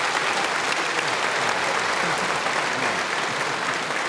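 A German television studio audience at a 1977 variety show claps loudly and steadily, a thick, even roar of many hands filling the room without a break.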